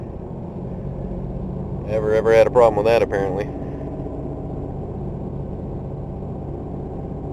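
A used Ford Ranger pickup idles in a shop, its low, even engine rumble running steadily throughout while someone speaks briefly over it.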